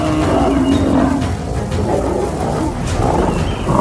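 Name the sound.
lion and buffalo roaring during a fight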